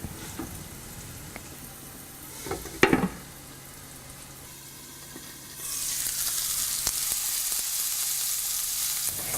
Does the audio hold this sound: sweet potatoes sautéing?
yes